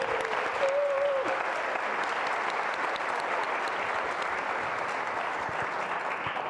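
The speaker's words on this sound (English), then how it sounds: "let's all give Gail a nice round of applause for what she's done" Sustained applause from an audience, a dense steady clatter of many hands clapping that continues evenly throughout.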